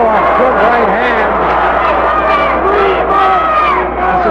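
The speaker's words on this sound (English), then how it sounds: "Crowd is yelling, give him the sleeper." Pro wrestling crowd yelling and cheering in a packed arena, a loud continuous roar of many voices with shouted calls rising and falling throughout.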